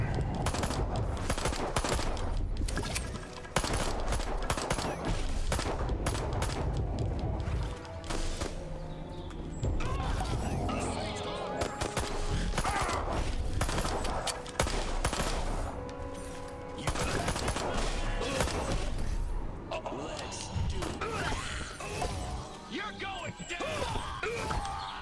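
A zapper weapon fires at crowds of humans in the Destroy All Humans! remake video game, a dense, continuous crackling barrage with bursts and clatter running loudly throughout, mixed with game effects.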